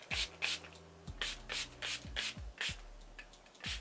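Hair spray spritzes onto thick 4C natural hair in about eight quick, crisp hissing bursts at an uneven rhythm, close and fairly quiet.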